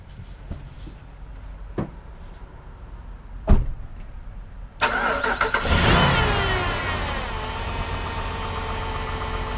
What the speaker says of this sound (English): I'm going to go in and actually turn the key and start it